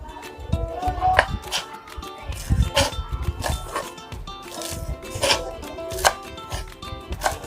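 Knife chopping leafy vegetables into chiffonade strips, a run of irregular, fairly close cuts and taps on a board, with speech faintly underneath.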